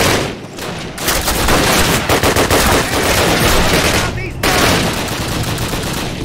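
Rapid automatic gunfire from the World War II shooter Call of Duty, Operation Pegasus mission, sounding as loud, dense bursts that run almost continuously with a couple of short pauses.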